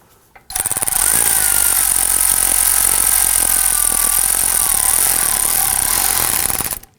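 A power tool, likely an impact driver, tightens the air tube clamp on the turbo of a 2015-2020 Ford F-150 2.7L V6: one loud, continuous, close whirring buzz lasting about six seconds, starting and stopping abruptly.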